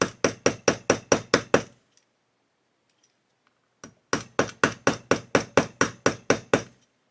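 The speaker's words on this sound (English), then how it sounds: "almost just using the weight of the hammer just to tap it in" A small hammer lightly taps a part on a 1/8-scale Pocher Porsche 917 model kit, resting on a cutting mat on the bench: two quick runs of about eight evenly spaced sharp taps, separated by a pause of near silence.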